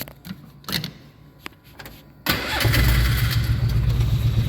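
A Polaris Ranger 500 utility vehicle engine with a freshly replaced camshaft: a few quiet clicks and knocks lead into a sudden loud start, then a steady, close, rumbling idle with no talk over it.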